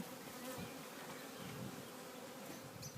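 A hanging clump of roughly 15,000 to 20,000 swarming honeybees gives off a faint, continuous droning buzz, with a few individual bees passing closer to the microphone.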